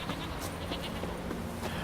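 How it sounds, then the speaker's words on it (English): Goats bleating in the video game Witcher 3, several overlapping calls over a steady ambient game background, moderately loud and close. "Why am I surrounded by goats all of a sudden?"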